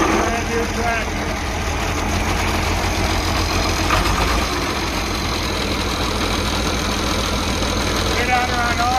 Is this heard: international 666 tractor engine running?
yes